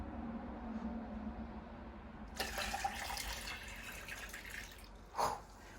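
Water poured from a container back into another, a soft trickle that swells into a brief louder splash partway through, then tapers to a faint drip in a quiet room.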